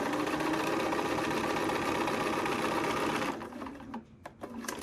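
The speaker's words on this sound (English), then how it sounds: "I will match it up on the corners and slide it under and sew" A sewing machine stitches quilt block pieces together in a fast, steady mechanical whir that runs for about three seconds, then stops, leaving a few soft handling sounds.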